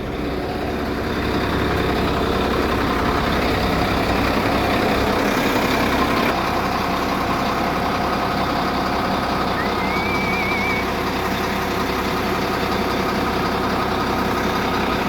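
A concrete mixer truck's engine idles steadily and loudly up close for the whole stretch, a dense continuous rumble with a brief faint tonal whine partway through.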